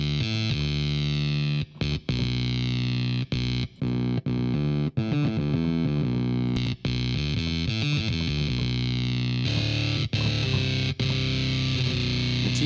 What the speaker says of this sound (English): I just want to see what happens if I just put an OTT on a sound like this.